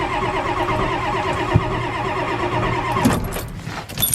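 A 1983 Ford 6.9 IDI diesel engine with non-working glow plugs cranks over steadily under the starter in a continuous rhythmic churn, without catching, ending in a brief clatter.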